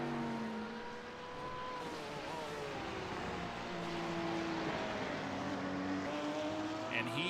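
Porsche GT3 race car lapping the Nurburgring in the iRacing sim, its engine note rising and falling through gear changes at steady, moderate volume with no gaps.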